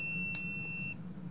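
Remote-controlled spray bark collar for dogs giving a thin steady high-pitched electronic beep, faint and close, with small clicks at the start and end.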